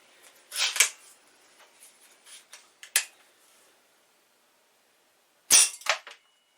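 Stoeger A30 .177 air rifle firing 7.4 grain pellets, shown as several sharp, close cracks spread across the stretch, with two loud bursts near the start and one near the end.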